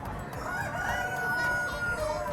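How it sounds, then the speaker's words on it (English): A rooster crows at a busy Sichuan street market, a long strained cock-a-doodle-doo rising over steady crowd bustle and background chatter, with hens clucking nearby. "Chickens and roosters back there."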